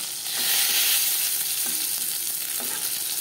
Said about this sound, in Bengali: মাছ ভাজবো মিডিয়াম ফ্লেমে।